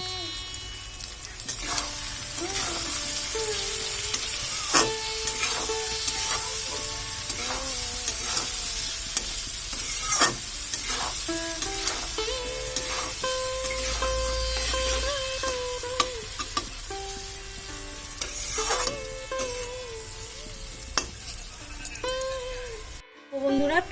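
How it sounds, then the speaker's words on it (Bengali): Onions and garlic frying in a pan for a fish curry, a constant close sizzle broken by scraping stirs and clinks of a utensil, with occasional quiet speech in the background. "পেঁয়াজটা দেওয়ার পরে আমি কিছুক্ষণ ভাজা ভাজা করে নিয়েছি"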